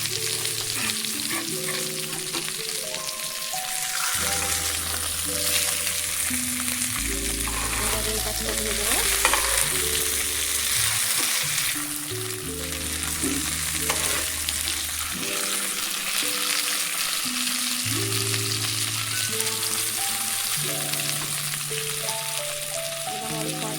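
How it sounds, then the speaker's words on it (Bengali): Fish fries on a flat tawa in a spicy Bengali fry, crackling and sizzling steadily and close throughout, with occasional stirring and flipping noises and a brief spoken line partway. "দেখুন এইভাবে দিতে হবে যেন পুরো মাছটা পুরো হয়ে যায়, ভাজা হয়ে যায়"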